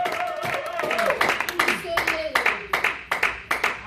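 A church congregation claps in quick rhythmic unison, loud and close, while a preacher's voice continues over the beat.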